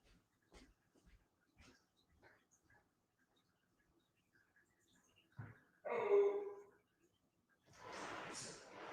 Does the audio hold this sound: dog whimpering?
yes